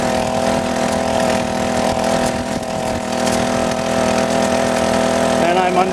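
Small engine on a motorized side-by-side tandem bicycle running steadily under power, a loud continuous buzzing drone with a constant tone that holds for the whole stretch while the bike rides uphill and through a turn.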